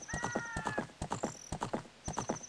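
Rhythmic horse hooves clip-clop in steady quick beats while riding on horseback in Zelda Ocarina of Time, game sound effects close and clear with a brief whinny-like tone.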